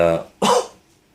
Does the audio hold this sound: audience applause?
no